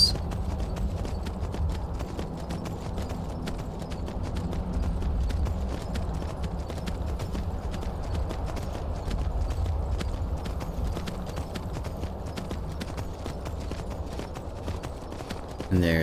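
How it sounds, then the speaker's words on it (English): Horse hooves clip-clopping in the video game Skyrim, a steady rhythmic trot continuing throughout over a soft ambient wilderness bed. "And here's a horse."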